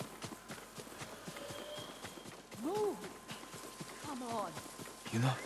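Horse hooves clip-clopping at a walk in the video game Ghost of Tsushima, with voices speaking over the steady hoofbeats.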